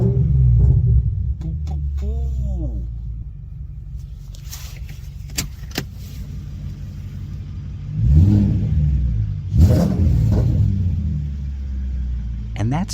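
BMW E30 340i Touring from 1990, swapped with a 4.4L V8, held at about 2,000 RPM, giving a deep steady rumble with two louder blips of throttle near the end, while a voice talks over part of it.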